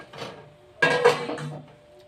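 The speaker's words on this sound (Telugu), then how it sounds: "మూత పెడుతున్నానండి" A metal lid clatters onto a cooking pot with a short ringing clank, close by and fairly loud.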